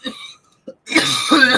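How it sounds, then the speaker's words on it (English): A single person coughs and clears their throat up close, a brief hack followed by a pause and then a longer, rougher burst of coughing. "You hear myself cough?"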